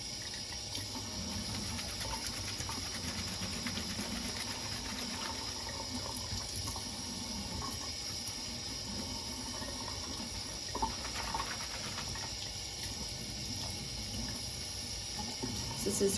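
Hands are washed with homemade lard soap under a running tap. The water gushes steadily and evenly throughout, with no talking.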